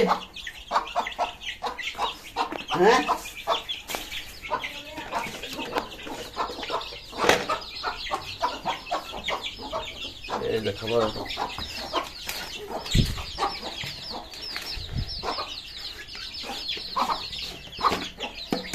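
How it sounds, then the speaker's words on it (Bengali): Young tiger breed chickens cluck and chirp close by in a busy, overlapping chorus, with occasional wing flaps and scuffling among the flock. "এই দেখুন টাইগার মুরগি বাচ্চাগুলো অনেক বড় হয়ে গেছে"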